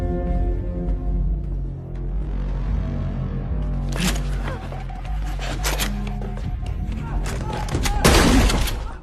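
Gunfire rings out in a film scene as Yongdong shoots a teacher, with sharp, loud bursts of shots breaking over a sustained musical score near the middle and again close to the end.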